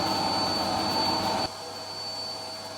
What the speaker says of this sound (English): And I'm going to vacuum his room